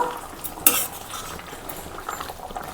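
Okra and raw prawn curry stirred in a pan, a short run of scraping and clinking of a spoon against metal with one sharper knock near the start, close and moderately loud with no talking.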